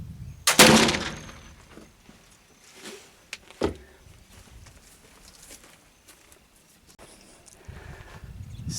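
Single sharp blast from a black powder gun loaded with homemade black powder, a loud close crack followed by a rumbling tail, then quieter handling clicks and a couple of knocks outdoors.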